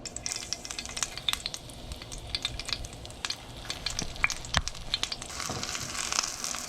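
Doritos-coated fish fries in a pan, a soft, continuous crackling sizzle with scattered pops, fairly quiet and close, rising slightly toward the end.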